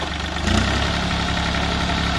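A mini tractor engine with a big-tractor-style pump idles close by, a steady low diesel chug that grows slightly louder about half a second in, then holds an even knocking rhythm.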